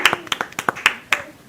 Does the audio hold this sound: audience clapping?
yes